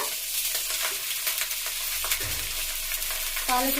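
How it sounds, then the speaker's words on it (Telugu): Spinach fries in a pan with green chillies for chutney, giving a steady close sizzle with scraping stirs and a few small pops, with no voices. "వేసి బాగా ఫ్రై చేయాలి. పచ్చి వాసన పోయే వరకు ఫ్రై చేయాలి."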